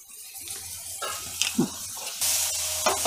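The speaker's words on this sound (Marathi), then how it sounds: "ही पण अशी तेलातच भाजून घ्यायची." Ginger-garlic paste frying in hot oil for a large batch of matar paneer, a steady close sizzle with occasional stirring scrapes and louder bursts as the paste spits in the pan.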